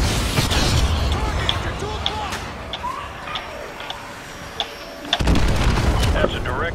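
Artillery shells explode on a tank target in the video game Call of Duty Modern Warfare 2 Remastered, dull booms and bursts rumbling under a dense battle din, with voices talking over it.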